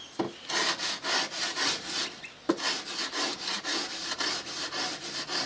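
An old paver brick is rubbed against a wooden edge to smooth it, giving a close, rhythmic run of gritty scraping strokes, roughly two each second, with a brief pause partway through.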